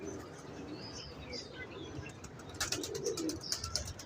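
Purebred 88 number breed pigeons coo faintly under a steady background hiss, with a few soft chirps and fluttering sounds toward the end.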